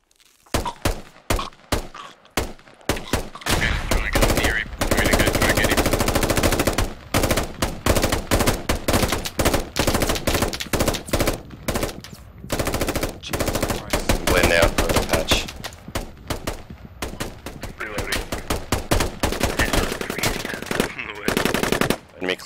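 Loud, sustained bursts of automatic machine-gun fire in the Squad military shooter on the Logar Valley map, with short gaps between volleys and some distant thuds, continuing for over twenty seconds.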